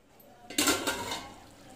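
A lid clanks onto a metal cooking pot of arvi salan, a single sharp clatter followed by a short, fading rattle, fairly close and alone.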